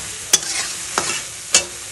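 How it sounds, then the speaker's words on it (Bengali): A paste of onion, chilli, ginger and cumin frying in a pan for a taro and potato curry, a steady sizzle punctuated by three sharp scraping stirs of a spatula, close and clear, without speech. "আর এটা এখন ভাজা হোক।"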